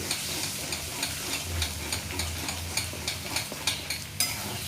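Beaten eggs for egg bhurji frying in a pan as they are stirred, giving a soft continuous sizzle with regular light scraping taps of the utensil, close up and fairly quiet with no one speaking.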